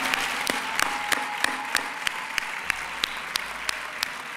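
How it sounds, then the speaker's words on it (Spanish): Audience at a sports gala in San Sebastián de los Reyes applauding together, a dense steady clapping from a hall crowd punctuated by a few sharp, rhythmic louder claps. "acabar la gala con un fuerte aplauso a este público extraordinario"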